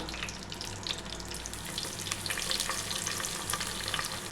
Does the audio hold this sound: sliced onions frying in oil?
yes